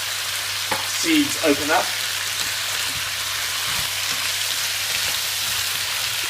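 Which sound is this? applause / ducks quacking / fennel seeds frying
fennel seeds frying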